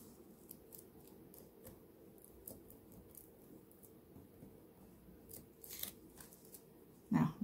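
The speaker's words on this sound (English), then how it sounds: "I just need to take all my tape off." Tape is peeled off a foiled card during papercraft, making faint, soft tearing and rustling sounds close by in a quiet room, with a sharper crinkle near the end.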